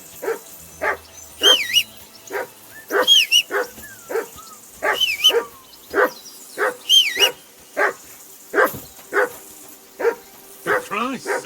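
In the video game Kingdom Come Deliverance II, a dog barks loudly and repeatedly, about twenty sharp barks in an uneven rhythm, with whistle-like tones sliding between some of them.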